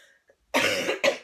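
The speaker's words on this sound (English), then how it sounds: "Excuse the cough." A woman coughs twice in quick succession indoors, a short burst followed by a brief second cough, close and fairly loud after near silence.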